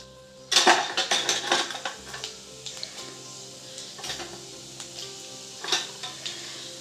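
Mustard seeds and cumin frying in hot oil for a dried prawn and tomato curry make a low sizzle beneath clattering stirring and metal pan knocks, close and uneven.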